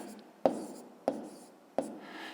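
Pen strokes on paper while writing out a fifth-grade math exercise, three short scratchy taps spaced evenly about half a second apart, close and quiet.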